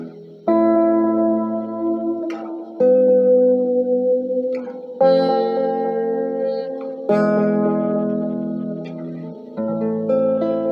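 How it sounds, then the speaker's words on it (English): Sustained guitar chords through a Guyatone EM-606 tape echo and 1976 Roland VX-33 amp ring out with a wash of echo and reverb, each chord blooming and lingering before the next one is struck. "And then we can turn that reverb back on."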